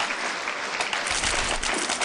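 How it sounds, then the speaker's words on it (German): Dense crowd applause fills the hall at an esports Counter-Strike finals match, sustained loud clapping from a large audience without a break. "Und das ist die erste Runde für MTW und dazu bitte einen Applaus"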